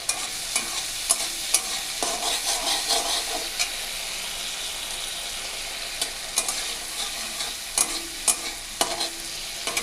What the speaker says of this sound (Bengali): এই যে চিংড়ি মাছ ভাজা চলছে